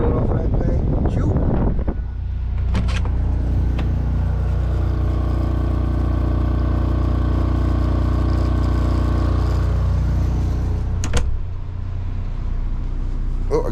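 A generator powers an air conditioner on a shanty boat, a steady low engine drone with fan hum throughout, and a person talks over it.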